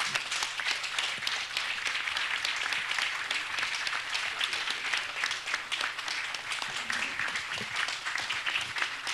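An audience applauds after a book presentation, a sustained, even patter of many hands clapping in a hall that carries on without a break and without talk over it.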